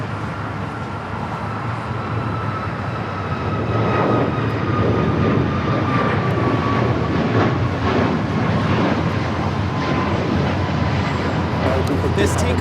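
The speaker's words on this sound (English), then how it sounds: "This takeoff is United Airlines 1863 taking off to Phoenix on the MAX 8." A United Airlines Boeing 737 MAX 8 takes off from Los Angeles International Airport, its jet engines building from a distant rumble into a loud, sustained roar that swells and holds.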